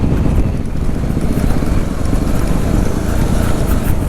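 A Yamaha WR250R dirt bike rides the trails at Carnegie SVRA, its engine droning loud and close with steady rumbling wind buffeting throughout and no pauses.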